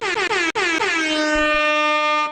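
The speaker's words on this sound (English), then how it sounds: "Let me go blow some air horns on that one." Several short blasts of an air horn sound effect are followed by one long sustained blare, loud and close, with no talking.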